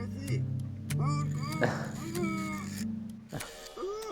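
A cat in the puzzle video game Creaks gives a few short, rising meows, mixed in with a steady game soundtrack and a person talking over it.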